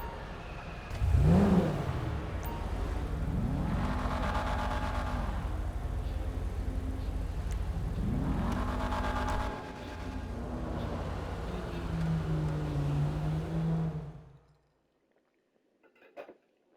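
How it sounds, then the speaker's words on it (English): A Pfister Comet sports car in Grand Theft Auto V revs and accelerates on a test drive, rising through several gear changes at moderate volume before cutting out into near silence. "So this is the Pfister Comet. And we're going to test drive it real quick."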